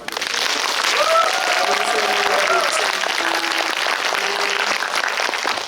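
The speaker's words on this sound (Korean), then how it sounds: "큰 박수로" A theater audience at a film talk event gives loud, sustained applause to welcome a special guest actress, a dense wash of clapping with a voice carrying over it.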